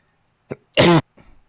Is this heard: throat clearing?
yes